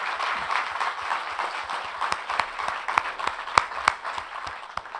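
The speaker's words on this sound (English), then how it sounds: "I want you all to join me in giving our panelists a warm applause and thanks." Audience applause for a conference panel discussion on South Asia's social economy, a steady wash of many hands clapping with sharp individual claps standing out, moderately loud and close, with no talking.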